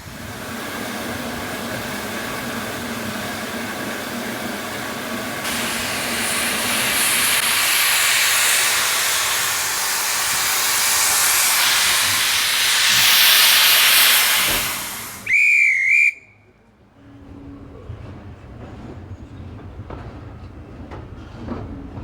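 Steam locomotive on the North Yorkshire Moors Railway, with a long loud hiss of venting steam building for about fifteen seconds before a short, sharp whistle blast, then quieter engine rumble near by.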